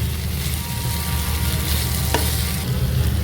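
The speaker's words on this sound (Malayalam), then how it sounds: "അത് ഈ മസാലയായിട്ടൊന്ന് മിക്സ് ചെയ്തെടുക്കുക." Cooked, cut mutton liver is stirred into masala in a hot pan, producing a steady close sizzle with scraping stir strokes and one sharp clink of the utensil.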